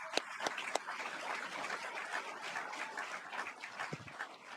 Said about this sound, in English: Can I get a round of applause for the support system as well?